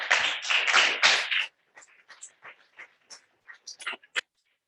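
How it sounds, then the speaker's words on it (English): A burst of audience applause at a workshop session, a dense round of clapping for about a second and a half that quickly fades into a few scattered, lingering individual claps. "So a clap for all the authors."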